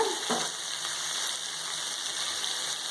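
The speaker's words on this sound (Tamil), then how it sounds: "நான் சிம்மில் வச்சு தான் வதக்குறேன்." Spinach with lentils sautéing uncovered on low heat, a steady close frying hiss with a brief stirring scrape near the start.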